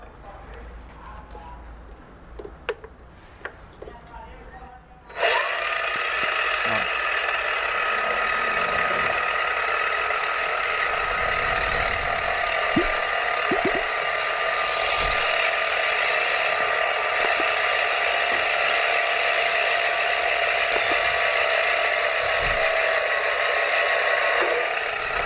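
A large drill bit bores a centre hole in a workpiece spinning on a mini lathe: after a few clanks, a steady, loud mechanical whine and hum runs on continuously with faint ticks.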